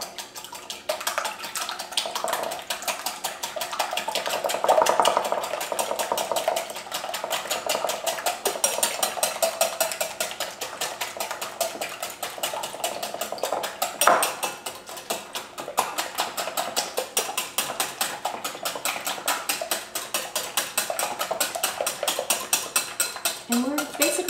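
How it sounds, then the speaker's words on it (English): A hand whisk beats cookie ingredients in a bowl with rapid, rhythmic scraping and clicking that runs steadily throughout, close and fairly loud. "So I'm just going to use the whisk and whisk these up."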